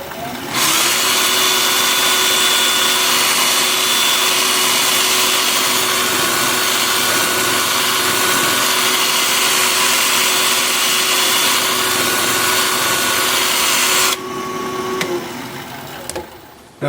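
A power sander with a sanding disc works a turned piece of scrap apple wood on the lathe, giving a loud, steady whirring drone for about fourteen seconds before it cuts off and winds down.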